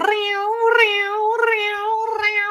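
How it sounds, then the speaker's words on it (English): Several cats meow in a row, three or four loud, drawn-out, wavering cries close by with short gaps between them, no voices over them. "Would you shut your cat mouths?"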